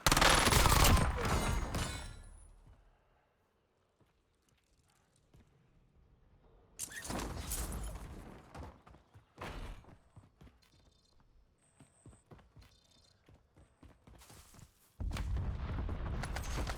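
Gunfire and explosions in the Warzone Resurgence video game: a heavy loud blast that fades out, then scattered shots and bursts of distant firing, with another loud eruption of gunfire at the end.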